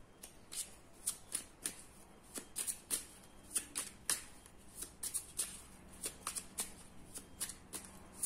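Tarot cards are handled and shuffled close up, giving a quick irregular series of crisp snapping riffles and flicks of card stock that continue steadily throughout.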